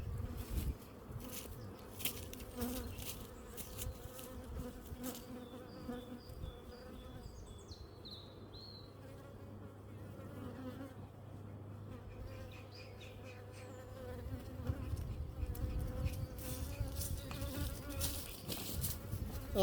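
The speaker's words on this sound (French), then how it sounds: "Donc là on est sur de l'abeille noire hybride" A colony of hybrid black honeybees hums at the hive in early April, a continuous close, low buzzing drone with individual bees flying past, and faint birdsong in the background.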